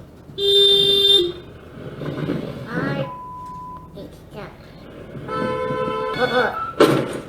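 Several car horn honks, a long blast and shorter toots, amid traffic noise and background voices.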